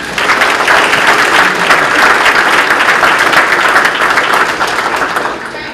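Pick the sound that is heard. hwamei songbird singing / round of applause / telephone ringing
round of applause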